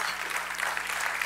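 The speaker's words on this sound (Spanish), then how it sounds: "dele el aplauso" A church congregation applauds in a dense, steady wash of clapping that fills the whole moment, loud and close, with a faint low hum beneath.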